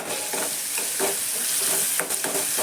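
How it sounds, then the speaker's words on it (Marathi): Tempering spices for dal crackle and hiss sharply in hot oil, a steady close sizzle with a few brief pops and stirring sounds. "वरण बनवते फोडणी देते"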